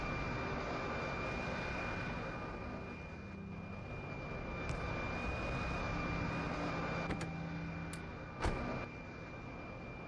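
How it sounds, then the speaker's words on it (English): Cargo plane from the Factorio game flying overhead, a steady droning engine hum that holds at an even level throughout, with a brief louder bump near the end and no talking. "There's the cargo plane."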